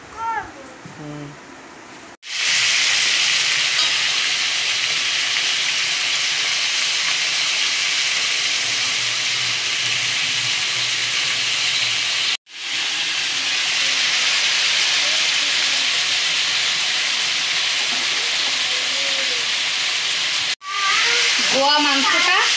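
Meat frying with salt and turmeric in a hot pan, a loud, dense sizzling hiss that runs steadily in long stretches, broken by brief pauses, with a voice heard at the start and end.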